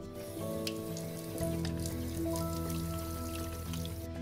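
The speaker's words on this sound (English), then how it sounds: "So first, because I've been petting Duke, I'm gonna wash my hands." Hands being washed under a running tap, a steady close stream of water with splashing and rubbing that continues throughout at moderate volume.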